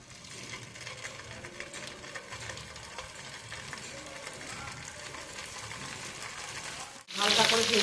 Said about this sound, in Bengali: তেলটা গরম হয়ে গেলে পনিরগুলো আমি ভেজে নেব।